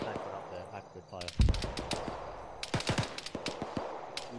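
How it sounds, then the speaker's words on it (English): Machine gun fire in the military video game Arma 3 comes as rapid, sharp bursts of shots, first a loud close crack and then quick repeated rounds, with a player voice briefly heard amid the firing. "Somebody's shooting at us."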